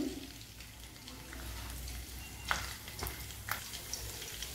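Cumin, mustard seeds and garlic sizzle in hot oil, a faint steady frying crackle with a few sharper pops and clinks.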